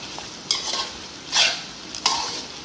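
Vegetable karahi with chicken being stirred in a pan after soy sauce is added, a steady sizzle broken by three or four scraping stirs, close and moderately loud with no talking.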